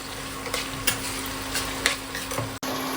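Meat, about two kilos, frying and being stirred in a kadai, a steady sizzle with a few soft scraping stirs, close and fairly loud, with no talking.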